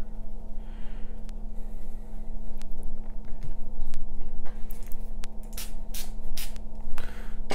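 Several short hissing bursts of a spray bottle spraying water onto a watercolour painting, a few spaced apart and then a quicker cluster, over a steady low hum.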